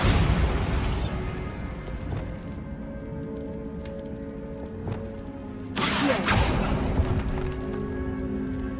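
A Bombarda spell blast in Hogwarts Legacy: a sharp, loud burst at the start that decays into a rumbling tail, then a second heavy explosive boom about six seconds in, set against low humming game ambience.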